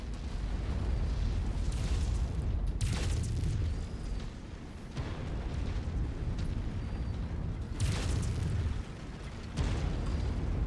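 Explosions in the MechWarrior 5 video game as a target is destroyed: loud, continuous booming rumble with several bursts, strongest near the start and again near the end.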